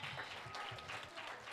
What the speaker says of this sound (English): Now let's give the musicians a hand clap of praise.